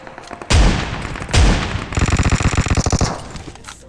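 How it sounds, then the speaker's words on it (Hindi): Gunfire in a battle royale game, coming from many directions: two loud heavy booms, then a rapid burst of automatic fire with a dozen or so sharp cracks, close and punchy, with no talk. "मतलब हर जगह से फायर आ रहा है"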